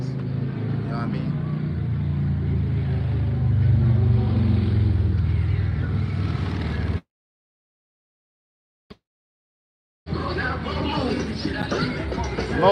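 Mopeds pass close by outdoors, their loud, steady engine drone filling the first seven seconds before cutting off, then a short tick, then the roar starts up again.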